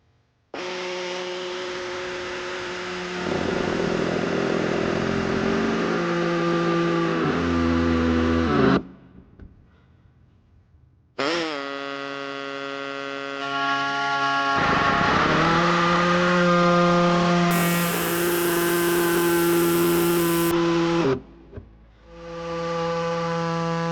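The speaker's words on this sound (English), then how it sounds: "I'm going to be using an air tube with a cutter." An air-powered cutter slices through the bumper fascia of a 2016 Subaru Forester, giving a loud, steady, high mechanical whine in two long runs separated by a short quiet gap, with a brief third start near the end.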